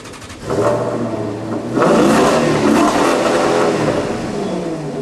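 An Italian sports car engine revs up sharply, climbs to a loud sustained roar, then settles back slightly, close by with no talking.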